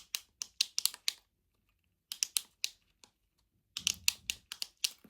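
A fidget toy clicked repeatedly up close, bursts of crisp rapid clicks separated by short pauses, with no talking.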